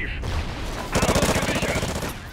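A sustained automatic spray of gunfire from a Call of Duty Ghosts multiplayer match, a quick evenly spaced string of loud, close shots lasting just over a second after a brief quieter lead-in.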